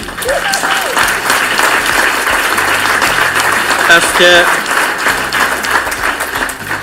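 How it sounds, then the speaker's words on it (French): Loud, sustained audience applause at a catering event in Montréal, continuous dense clapping with cheers and a few voices mixed in. "J'aimerais quand même que vous donniez une bonne main d'applaudissement à Darly."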